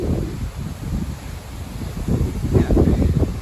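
Wind blowing outdoors in the countryside near Longirod, Vaud, Switzerland, near colorful trees and falling leaves, a steady low rumble of gusts buffeting the microphone, swelling stronger toward the end.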